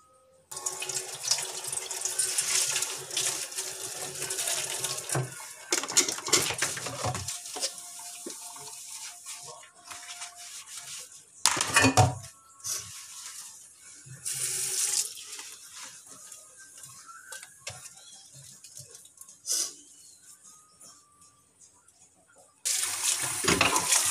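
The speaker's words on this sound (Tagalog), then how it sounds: "Maghugas na po sa ginamit kanina." Used dishes are washed under a running tap, with steady splashing water and clinking interrupted by brief pauses and louder gushes.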